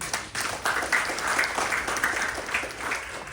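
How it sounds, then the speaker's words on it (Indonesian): At an Islamic religious talk, the audience applauds the Muslim women who raised them, a lively burst of many hands clapping with some sharper individual claps standing out, swelling and dipping slightly over three seconds. "Tepuk tangan untuk muslimat."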